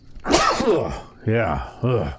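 A single sudden human sneeze bursts out sharply and close, followed by short spoken replies from a man.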